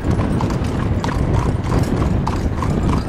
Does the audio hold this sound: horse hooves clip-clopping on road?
yes